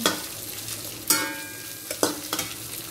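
Scrambled egg frying in a pan gives a steady, low sizzle, broken by a few sharp scrapes and clatters of stirring, close by with no voices.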